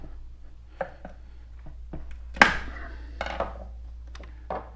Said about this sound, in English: we're just going to take a screwdriver right into here and just pry up